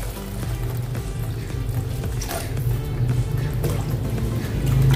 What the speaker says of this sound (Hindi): तो गरम पानी डालेंगे।